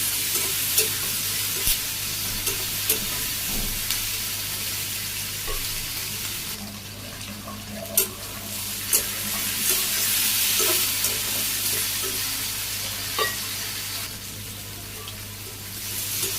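Potatoes sautéing in oil in a village kitchen pan, a continuous sizzle under a low hum, punctuated by sharp scrapes and knocks of a spatula stirring over several seconds, with no speech.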